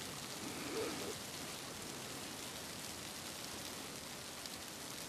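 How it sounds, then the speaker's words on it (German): Snow patters steadily on a tarp shelter in a quiet winter forest during a bushcraft overnighter, a soft continuous hiss of granular taps heard alone. "Man hört also nur den Schnee prasseln gerade"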